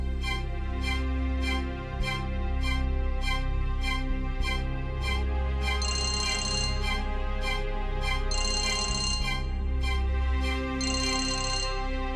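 A telephone rings with a repeating electronic ringtone in a steady rhythmic pattern, and a brighter chiming phrase recurs three times. It is loud and close, with no voices.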